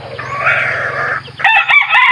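A white kelso fighting rooster and pet chickens in a small cage give one drawn-out crow followed by sharp, close clucking, loud and alone without talk.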